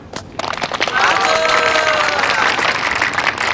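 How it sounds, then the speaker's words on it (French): An audience applauds a couple at a celebration, a dense, steady wash of clapping with cheering voices rising over it, loud and sustained after a brief quieter start. "Quel beau couple, applaudissez s'il vous plaît."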